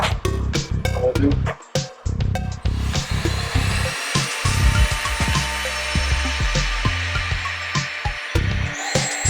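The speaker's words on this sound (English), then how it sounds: "Just drill a hole." A power drill bores a hole in a scratch-built Necromunda tabletop model while lights are being wired in: a series of loud, close grinding bursts with short pauses, settling into a longer steady run of whirring and rasping.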